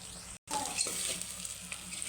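Drumstick pods being stirred and mixed in a pan as a dry stir-fry, a close, soft sizzle with scraping and light clatter of the spoon, broken by a short dropout near the start.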